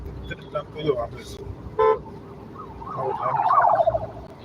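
An ambulance siren wails through busy night traffic, its wavering tone rising out of the road noise toward the end, after a few short horn toots and passing cars. A voice is heard at times.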